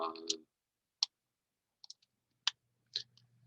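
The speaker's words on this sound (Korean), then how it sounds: "마우스 포인트를 차트 위에 올려놓고 클릭해서" A few sharp, sparse mouse clicks on a spreadsheet chart in a quiet room, spaced apart, after a brief bit of Korean speech at the start.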